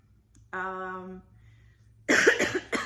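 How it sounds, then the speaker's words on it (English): A single harsh cough bursts out close by, with a short rough aftershock, following a brief tonal vocal sound and a low steady hum beneath. "I just have a cough."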